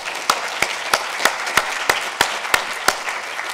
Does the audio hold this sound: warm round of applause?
yes